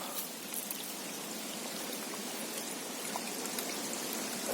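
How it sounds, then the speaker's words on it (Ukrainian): Steady rushing of cold spring water gushing from under a hillside, flowing and splashing, constant and fairly close, with no voices. "А так з-під гори"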